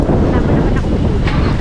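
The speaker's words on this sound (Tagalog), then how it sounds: "Medyo malakas ang hangin ngayon mga kainags oh." Strong wind in Edmonton, Alberta buffets the microphone, making a loud, continuous rumbling roar with low, thumping gusts.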